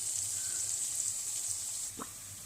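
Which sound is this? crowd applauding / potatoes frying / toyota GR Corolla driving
potatoes frying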